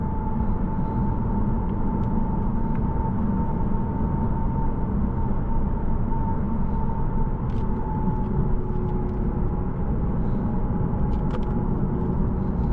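A 2022 Lexus RC 350 drives along with a steady, loud road and engine rumble and a constant low hum that runs unbroken throughout, with no talking.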